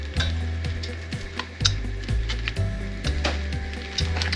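French bread slices for French toast frying in a pan, a steady close sizzle with periodic soft clacks and scrapes of a utensil, no talking.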